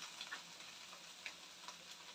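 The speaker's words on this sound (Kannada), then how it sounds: "ಇವಾಗ ರೈಸನ್ನು ಸೇರಿಸಿದ ನಂತರ ನೀವು ಈ ರೀತಿ ಹುರಿಬೇಕಾಗುತ್ತೆ" Cooked rice being fried and stirred in a pan for egg rice, a soft continuous sizzle broken by light scraping stir strokes, fairly faint and with no talking.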